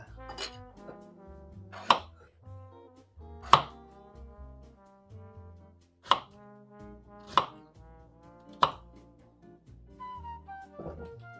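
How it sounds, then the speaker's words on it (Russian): A knife chops potatoes and onion on a board in sharp, evenly spaced strokes, about six distinct hits, over a quiet background of faint tonal hum. "так что давайте нарезать"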